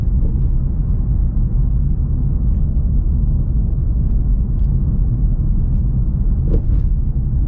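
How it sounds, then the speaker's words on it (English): A steady, loud low rumble of tires on pavement from inside a moving 2025 BMW M5, droning continuously with faint bumps and no talking. "You can hear quite a bit happening through with the road noise"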